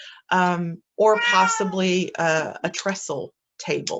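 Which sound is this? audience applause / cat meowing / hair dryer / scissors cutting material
cat meowing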